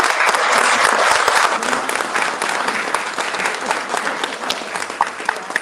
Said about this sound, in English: So join me in giving a big round of applause to Maria.